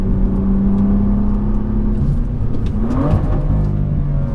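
A BMW M2 with the N55 engine and an aftermarket exhaust revs steadily, its constant loud mid-low drone rising in pitch near the end, recorded close with no talking.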